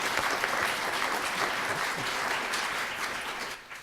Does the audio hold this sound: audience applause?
yes